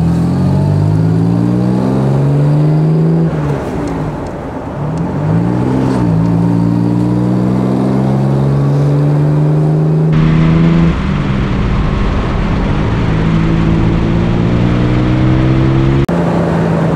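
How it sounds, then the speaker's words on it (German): A 1958 Jaguar XK150 3.4 roadster with its six-cylinder engine pulls hard through several gears, loud and close, each rising engine note breaking off at a shift before climbing again. "Das Auto geht ganz schön los, hat ganz schön Kraft."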